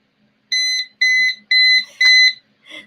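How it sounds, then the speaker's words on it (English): A visual timer's alarm sounds four loud, shrill electronic beeps at a steady half-second rhythm, close by, with a faint voice starting after them. "So you put it there 15 minutes, and then it will alarm"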